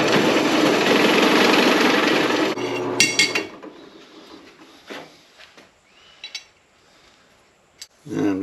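On a 1978 K5 Blazer brake build, holes in metal brake line straps are enlarged, starting with a loud sustained drilling whir that cuts off, followed by scattered metallic taps and short grinding bursts.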